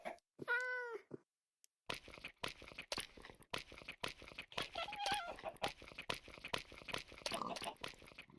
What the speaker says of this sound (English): Oh, okay, we have one cat.